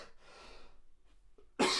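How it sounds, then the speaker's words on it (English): A single sharp cough bursts out close to the microphone at the very end, after a stretch of soft breathy noise, during a spoken PHP coding lesson. "excuse my coughing"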